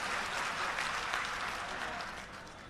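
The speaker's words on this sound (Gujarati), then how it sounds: "એમની માટે સૌ પ્રથમ તો એકવાર જોરદાર તાળીઓ થઈ જાય મિત્રો" A crowd at an Aam Aadmi Party political rally in Gujarat claps loudly and steadily, a dense wash of applause that fades slightly toward the end.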